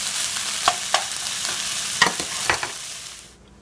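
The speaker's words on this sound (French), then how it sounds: "Puis ajoutez les épinards. Et poursuivre la cuisson jusqu'à l'eau soit complètement évaporée." Spinach for a homemade quiche cooks in a pan until its water evaporates: a steady hiss of sizzling moisture broken by a few sharp utensil clicks from stirring, fading out at the very end.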